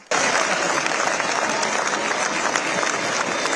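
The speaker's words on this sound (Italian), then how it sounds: "Gli applausi per Mattarella e Steinmeier." Audience applause at the Greek Theatre in Siracusa for the presidents of Italy and Germany, Mattarella and Steinmeier: a dense, steady ovation that bursts in suddenly and holds evenly to the end.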